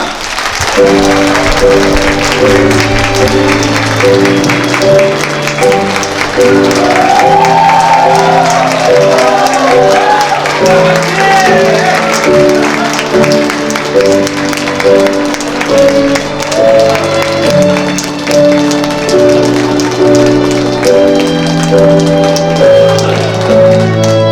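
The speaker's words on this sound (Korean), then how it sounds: "여러분 큰 박수 부탁드리겠습니다" Wedding guests in an Incheon convention hall clap continuously for the groom's entrance, the applause blending with loud processional music throughout.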